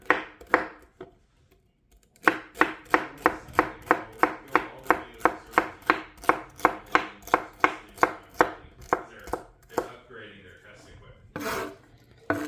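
Celery stalks chopped with a knife on a cutting board, a fast steady run of about twenty sharp, close, evenly spaced chops after a brief pause, ending with a few scattered cuts and a scrape.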